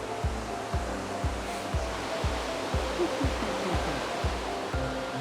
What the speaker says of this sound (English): There's something about the sound of running water that is, I find, like really, really therapeutic